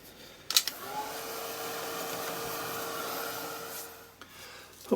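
Dryer blowing on an art journal page switches on with a click, whirs in a steady airy hum with a motor tone for a few seconds, then clicks off.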